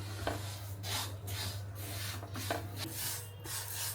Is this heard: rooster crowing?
no